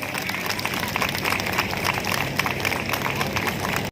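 An audience at a Shito-Ryu karate federation event applauds winners of an international karate championship with a steady, dense patter of clapping from many hands.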